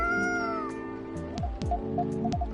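A cat in the video game Coffee Talk 2 meows several times, with drawn-out, falling cries over a soft sustained musical backdrop, close and clear.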